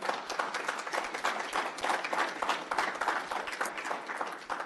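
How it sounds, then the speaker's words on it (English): Steady applause from an audience at a physician assistant program oath ceremony, dense continuous clapping that holds at an even level for nearly five seconds. "I think all of you deserve a round of applause for yourself as well"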